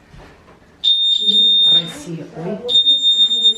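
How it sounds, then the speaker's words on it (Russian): A museum security alarm sounds as a steady high-pitched electronic beep in two loud stretches, with people talking over and between them. "Я руку протянула и сразу сигнализация заработала."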